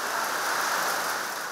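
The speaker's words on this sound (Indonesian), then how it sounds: "Aduh, hujan, Dul." Steady rain falls outdoors as a continuous, even hiss, moderately loud with no voices or other sounds over it.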